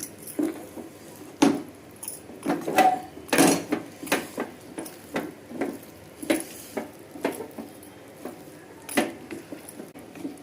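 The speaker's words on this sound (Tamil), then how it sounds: "அந்த மாவு கட்டியாக வரைக்கும் மாவை வதக்கணும்" Scraping and clattering of a utensil working thick rice-flour dough in a pan for nei urundai dumplings, with repeated sharp strokes and a faint sizzle underneath.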